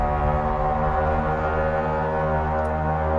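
A novelty horn sound effect blares in one continuous, loud, buzzy honk lasting about three seconds, with no other sounds around it.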